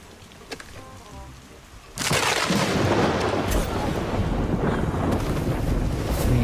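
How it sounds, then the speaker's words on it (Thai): In the video game Arena Breakout, lightning strikes with a sudden loud crack, followed by a sustained heavy roar of thunder and storm noise that fills the rest of the moment. "เสียงฟ้าผ่านี่ค่อนข้างจะตกใจได้เลยครับผม"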